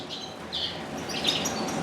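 Redpolls and other native finches in cages give faint, scattered high chirps and tweets over quiet background hiss, with no voices.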